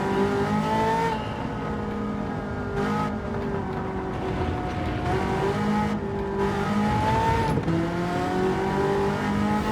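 A stock Ferrari F40 with its original engine, exhaust and intake is driven hard on the Nürburgring. The engine note is loud and continuous, rising through the revs and dropping sharply at each gear change.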